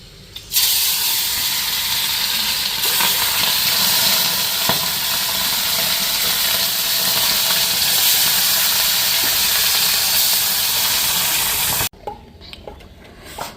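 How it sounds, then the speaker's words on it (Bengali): Fish rubbed with salt and turmeric fries in hot oil, giving a loud, steady sizzle and hiss that runs unbroken for about eleven seconds before cutting off abruptly, with no talking. "মাছে লবণ হলুদ মাইখা মাছটাকে ভাজা করে নিই"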